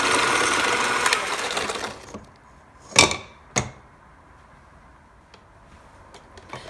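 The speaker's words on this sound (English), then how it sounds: "Now we'll add eggs one at a time and mix." An electric mixer beats eggs into lemon pound cake batter, a loud, steady whirring for about two seconds that then cuts off, followed by a couple of sharp knocks and a quiet background.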